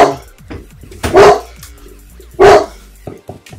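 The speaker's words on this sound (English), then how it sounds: "There's the dog barking." A dog barks twice, with loud, close single barks spaced about a second apart, separated by quieter room noise and faint small clicks.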